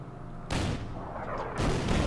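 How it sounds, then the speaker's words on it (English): Two heavy artillery blasts from the Order of Battle wargame, about a second apart. Each booms out with a broad, rumbling decay over a low background. "Artillery does no damage."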